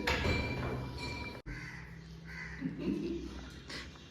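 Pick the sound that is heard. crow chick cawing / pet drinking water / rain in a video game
crow chick cawing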